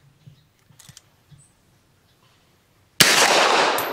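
A Dark Storm Industries Hailstorm 9mm pistol fires a single loud, close shot after a few faint handling clicks, the blast ringing out and lingering to the end.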